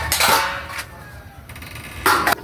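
A metal lid set onto a cooking pot of soup, giving a couple of short clanging clinks with a brief rattle between them, close and fairly loud.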